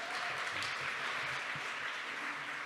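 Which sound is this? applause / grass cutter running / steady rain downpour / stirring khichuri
applause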